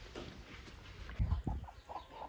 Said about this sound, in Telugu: ఇగో ఇదే ఆ కోడి